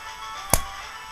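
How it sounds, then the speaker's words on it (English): A single sharp, close slap of a hand striking a forehead lands once, brief and alone against a quiet room background. "That is the sound of my hand hitting my forehead."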